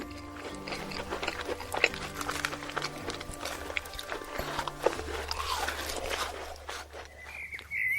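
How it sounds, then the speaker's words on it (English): A crisp, deep-fried urad dal vadai is bitten and chewed up close, giving repeated sharp crunches over a low steady hum. "when you bite into it, the crunch is satisfying"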